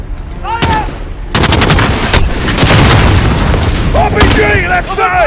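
Heavy gunfire and booming explosions in the Modern Warfare campaign, rapid automatic bursts layered over deep blasts, loud and close, with shouted voices breaking through the battle.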